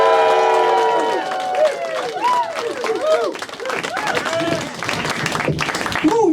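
A lively crowd at an Edinburgh Fringe comedy semi-final applauds and cheers loudly, with whoops and shouts rising over sustained clapping that gradually thins.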